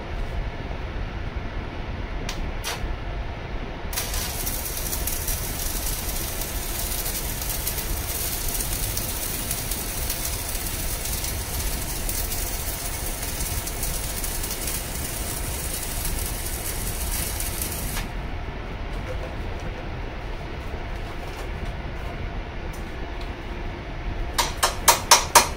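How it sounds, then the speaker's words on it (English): Steady crackling hiss of stick welding with an ESAB OK 46.30 rutile electrode on plus polarity from a Vevor MIG-250 multiprocess machine, sustained and even for about twenty seconds, ending with a few sharp taps. "We can see it did weld just fine, just like any other rutile electrode."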